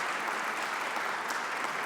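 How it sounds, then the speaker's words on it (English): An audience applauding during a lunch speech in the US Senate setting, a dense continuous wash of clapping held at an even level for a brief stretch. "Come on, I need a round of applause."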